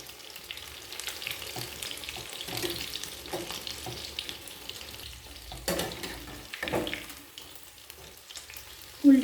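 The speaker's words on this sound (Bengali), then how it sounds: "এরপর উল্টে পাল্টে লাল করে চিংড়ি মাছের পকোড়াগুলো ভেজে নেব" Small prawn pakoras deep frying in hot oil give a continuous crackling sizzle with bursts of spitting as they are turned, close and steady, no voices.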